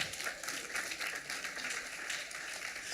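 Church congregation applauding the Lord, a soft, steady patter of many hands clapping at a distance, faint and continuous throughout.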